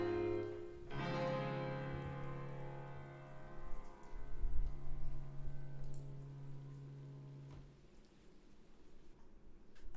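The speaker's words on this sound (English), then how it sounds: "That rain sound at the end is so nice." Steady rain falls as a soft, continuous hiss under a sustained tonal hum that fades out near the end, leaving the patter alone in the final seconds.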